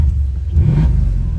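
Engine of a 2016 Mercedes-Benz SL550 Mille Miglia 417 Edition revving close up, a deep low rumble that swells briefly in the middle and settles back, with no voices.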